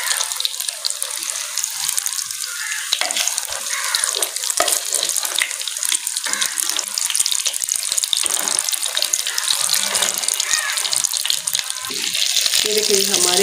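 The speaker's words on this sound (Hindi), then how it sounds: "ये देखिए जी हमारे कबाब फ्राई हो रहे हैं।" Kebabs fry in a pan, giving a loud steady hiss and sizzle with bubbling crackle throughout, heard close up and without pause.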